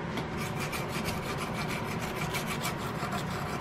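Hand sanding and filing of brass muzzleloader hardware on an Investarms Gemmer Hawken rifle, a close steady rasping with rhythmic back-and-forth strokes, no talking.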